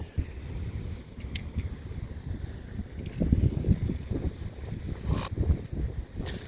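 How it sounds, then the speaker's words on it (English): Steady gusty wind buffets the microphone in low rumbling bursts, swelling stronger midway and again near the end, with no talking. "Man, it is real windy."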